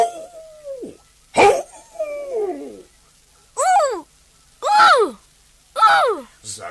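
A dog in a cartoon, intended to bark, gives a series of drawn-out, wavering howls and whimpers in separate bursts with pauses between them, close and clear.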